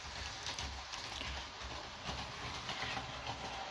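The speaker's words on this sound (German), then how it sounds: "Ich lasse jetzt mal hier den IC1 losfahren oder den normalen ICE besser gesagt." A model railway ICE train runs along the track on a layout with a level crossing, giving a steady, quiet rolling rumble and faint rail clatter that continues throughout with no talking.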